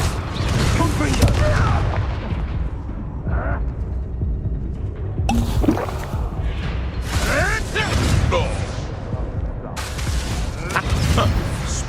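Explosive Confringo spell blasts in Hogwarts Legacy fire in a rapid series, loud and close, layered with combat clatter and a speaking voice.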